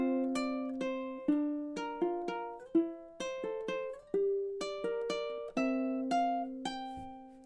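Fingerstyle ukulele plays the chord passage of a song, plucked arpeggios and strummed chords ringing out in a gentle, steady rhythm, close and clean with no talk.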